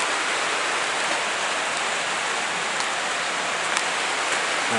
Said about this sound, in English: it's raining pretty hard now